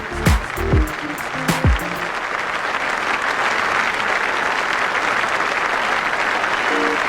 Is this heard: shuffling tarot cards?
no